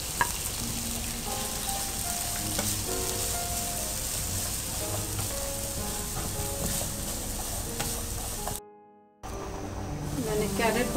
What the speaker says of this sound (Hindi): आप 2 टेबल स्पून ऑयल डाल के कैरेट डालें, इसको हल्का सा फ्राई कर लें।